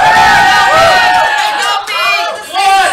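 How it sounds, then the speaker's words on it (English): A live game-show studio audience cheers and whoops loudly and continuously, with excited shouting voices rising and falling throughout. "Cheer on, everyone!"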